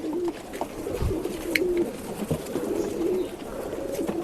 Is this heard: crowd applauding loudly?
no